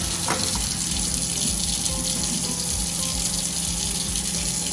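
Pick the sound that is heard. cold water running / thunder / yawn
cold water running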